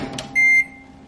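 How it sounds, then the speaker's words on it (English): Microwave oven heating oats: a soft hum runs throughout, broken by a single loud, steady electronic beep of about a quarter second, close by. "put the oats in the microwave and do not let your eyes leave that microwave"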